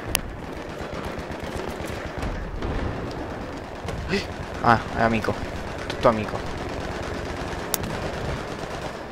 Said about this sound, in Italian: Cioè io sparo. Aiuto, mi sparano.